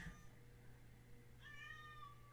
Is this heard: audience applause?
no